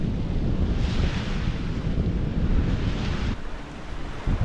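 Strong wind at sea buffets a sailboat sailing close-hauled at the start of a transatlantic crossing, a continuous loud rush of air and water with gusty swells and no pause.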